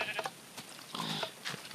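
Sheep in the Minecraft video game giving several short, nasal bleats in quick succession, fairly faint and alone.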